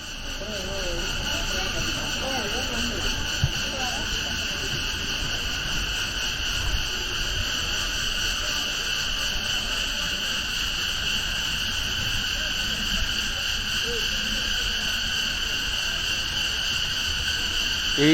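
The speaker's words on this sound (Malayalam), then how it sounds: "ഈ യാത്രയിലുടനീളം ചീവീടുകളുടെ വളരെ കൂടുതൽ ശബ്ദം കേട്ടൊരു സ്ഥലമാണിത്" Crickets and other insects shrill loudly and continuously in the hills of Vagamon, a dense layered whine holding steady throughout, with faint low background rumble and a voice talking quietly underneath.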